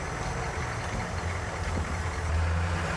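AM General M1097A2 Humvee with a 4-speed transmission, its diesel engine at full throttle, a steady low, heavy rumbling drone that swells slightly toward the end.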